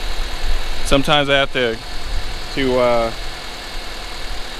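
A Honda D17 engine idles at a steady low rumble beneath a man's speech, the hum continuing through the pauses between his words.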